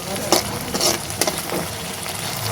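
Ginger-garlic paste with spices is stirred and fried in a pan, giving a steady sizzle broken by several scraping stirs of a spoon, heard close up with no voices.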